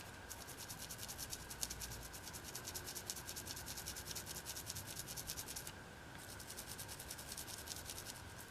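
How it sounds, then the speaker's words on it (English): Steady, rapid scrubbing of a Ruger 10/22 firing pin to clear carbon buildup, a close, continuous brushy rasp with fast back-and-forth strokes, a brief pause near the end before it resumes; no voices. "you want to make sure you scrub it down good until all the carbon buildup comes off"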